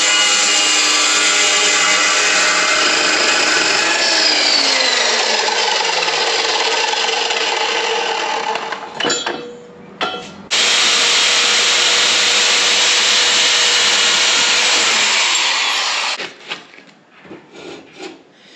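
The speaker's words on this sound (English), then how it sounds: "I need to cut a weird angled notch on this end to make things fit upright." An angled notch is cut into the end of a pipe, a loud harsh continuous grinding rasp that runs for several seconds, breaks off briefly, resumes in a second long burst, then dies away in sputters.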